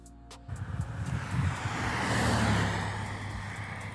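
A car passes by on a road, a rising whoosh of engine and tyre noise that swells to a peak and fades, with wind buffeting the microphone.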